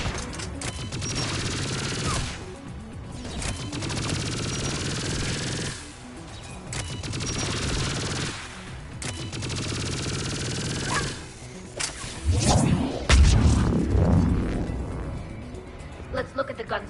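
Sustained bursts of mounted turret fire in the Mass Effect 3 video game, dense and loud, broken by brief pauses and a heavier impact near the end, with voices speaking underneath.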